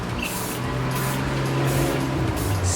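Rust-Oleum gloss black spray paint hisses from an aerosol can in a steady, close, continuous spray, laid down as a light coat on parts for a 2015 Mustang S550, with a low background hum underneath.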